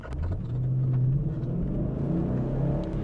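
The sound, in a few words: 2014 Ford Mustang GT 5.0 engine while driving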